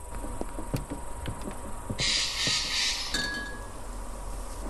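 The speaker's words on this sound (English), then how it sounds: "Okay, now I have a glass." Glass clinks as a drinking glass is picked up in the video game Grey Skies: A War of the Worlds Story, a bright ringing chime lasting about a second over a low ambient game background, with faint ticks around it.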